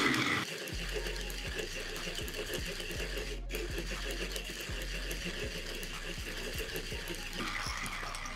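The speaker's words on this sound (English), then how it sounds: "being a benchtop grinder, we're just gonna push down and turn the handle" A Fiorenzato Pietro 58mm flat burr hand grinder grinding coffee beans, a continuous close mechanical whirring crunch with a faint rhythmic pulse as the handle turns.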